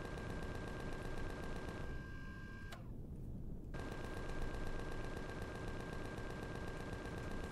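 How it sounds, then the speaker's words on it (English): An enemy gun turret fires in the sci-fi game Empyrion, a dense, continuous stream of rapid mechanical shots with a steady tonal hum that briefly cuts out and then resumes, loud and close with no talking. "that other gun is actually shooting us"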